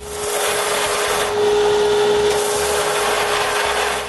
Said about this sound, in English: I need to use another sanding machine.